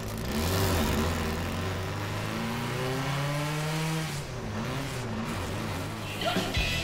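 A vintage race car's high-revving engine, once capable of over 8,000 RPM, screams steadily and loudly with rising and falling harmonic pitch, close by and continuous, ending with a brief thump.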